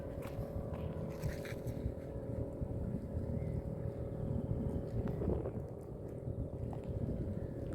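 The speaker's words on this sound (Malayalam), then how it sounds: "കണ്ടോ, ബോട്ടൊക്കെ." A motorboat out on a Kerala-style backwater, its engine giving a steady low drone at moderate distance with some wind buffeting, no talking.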